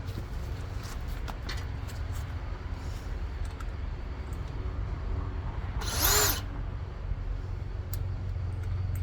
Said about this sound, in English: Now, I'm going to drill some holes.